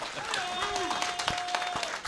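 Audience applause at a podcasting conference, a dense wash of clapping running about two seconds with a tonal whistle or feedback tone drifting over it.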